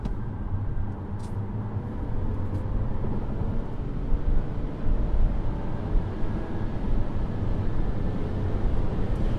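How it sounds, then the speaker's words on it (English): A 2024 Toyota Camry XSE V6 at full throttle, heard from inside the cabin as a steady rumbling engine and road roar that builds slightly over several seconds, with no talking. "So let's go ahead and open this guy up full throttle."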